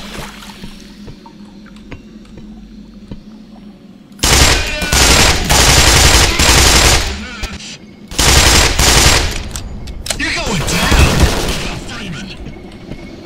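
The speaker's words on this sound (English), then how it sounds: "Thanks for shooting at me, Mr. Ass." Automatic gunfire in the video game Black Mesa comes in loud, dense bursts of rapid shots, two long sustained volleys separated by a brief pause, with quieter game ambience and scattered sounds before them.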